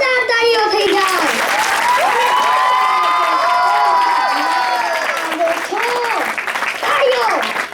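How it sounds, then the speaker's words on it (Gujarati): Schoolchildren in a classroom clap together loudly, with young voices shouting and chattering over the applause throughout. "એકવાર જોરદાર તાળીઓ થઈ જાય."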